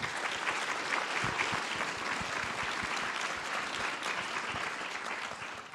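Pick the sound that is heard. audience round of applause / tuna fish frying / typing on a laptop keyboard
audience round of applause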